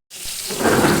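Masala spices fry and sizzle in hot oil in a pan as they are cooked down until the oil separates. A loud, steady hiss starts abruptly and swells slightly, with no talking.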